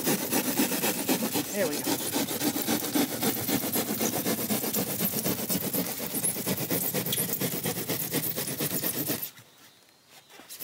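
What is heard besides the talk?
saw trimming foam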